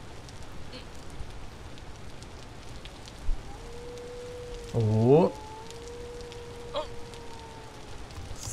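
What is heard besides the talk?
rain in the video game Vintage Story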